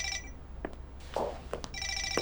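A mobile phone rings inside a bag, its electronic ringtone sounding in short repeated bursts with brief gaps between them. A muffled thump is heard in the middle of the ringing.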